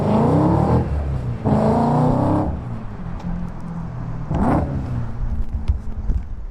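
A loud, raspy E92 BMW M3 engine, uncorked and without catalytic converters, blips three times, each rev rising sharply then dropping back to a rough idle.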